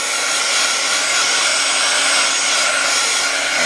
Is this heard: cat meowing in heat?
no